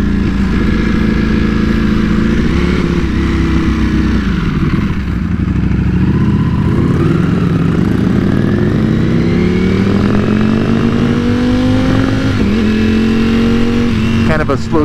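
A Ducati V4 motorcycle with a quickshifter runs loud and close, its engine pitch climbing through repeated revs and dropping sharply at each clutchless gear change.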